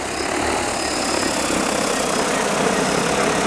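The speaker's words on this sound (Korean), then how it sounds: "이게 프로펠러가 원체 크기 때문에 헬리콥터 소리처럼 이렇게 들려요" DJI T20P agricultural drone hovering and climbing on its large propellers, a loud, steady, helicopter-like whir and roar with a broad airy hiss, unbroken and close, with no voices.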